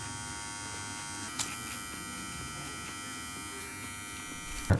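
An electric shaver cleans up a trimmed moustache line along the upper lip, giving a close, steady buzzing drone with a faint click partway through and a sharper knock at the end.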